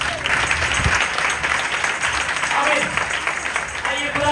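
Audience applause for a teacher at a church sermon gathering, a dense, steady wash of many hands clapping that holds loud and even for the whole stretch, with no voices standing out.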